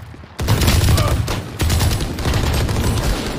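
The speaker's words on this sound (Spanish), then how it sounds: "Estoy disparando" Sustained gunfire from the video game Valorant, a dense loud burst of rapid shots with a second volley joining partway through, continuing without pause and no talk over it.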